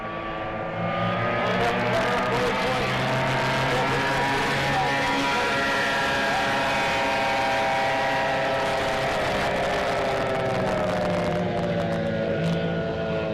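Racing boats on Lake Tholocco sprint down an 800-foot course, engines roaring loud and continuous with climbing and shifting pitch, and no talk.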